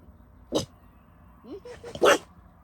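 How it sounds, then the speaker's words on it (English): A pet dog at a glamping tent site gives short, muffled barks, one near the half-second mark and two more close together toward the end, separated by quiet whimpering sounds. "You're not supposed to bark with your mouth full."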